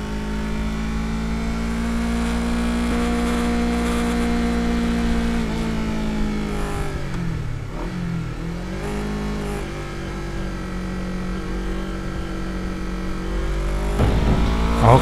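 A Honda CBR250RR 2023 250cc motorcycle engine idles and revs, its pitch dipping and rising through throttle changes and a shift into fourth gear, loud and close, with no speech.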